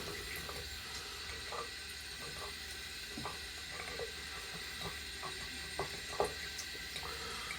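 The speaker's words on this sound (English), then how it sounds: "Just getting some lukewarm water on the razor" Lukewarm water runs from a tap onto a titanium razor in a steady, close trickle, broken by small clicks and taps of the razor against the sink.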